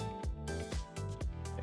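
A buzzy synthesized saw-wave bass with unison, dropped one octave, plays a short repeating pattern of low, gritty notes, each with a downward pitch dip at its start, designed for an Apex Legends character selection sound.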